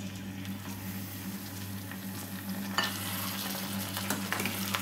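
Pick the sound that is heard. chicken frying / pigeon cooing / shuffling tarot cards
chicken frying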